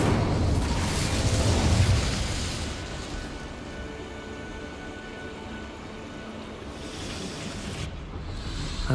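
Incendio fire spell cast in Hogwarts Legacy: a loud whooshing roar of flame bursts up in the first two seconds, then settles into a steady crackling rumble that lingers and swells slightly again near the end, with no voices.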